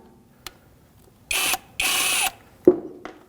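A 14mm socket ratchet loosens the brake caliper banjo bolt on a 2014–2019 Toyota Corolla front caliper, making two short bursts of rapid clicking followed by a metallic clunk and a faint tap, close by in a quiet setting.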